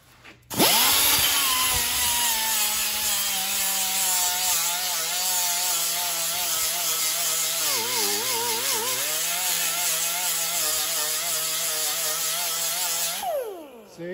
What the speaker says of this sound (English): I take this sander, see? And I sand the inside of the drum.